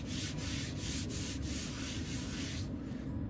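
Shellac-based primer is hand-sanded with sandpaper in steady, rhythmic back-and-forth strokes, close and continuous, stopping near the end.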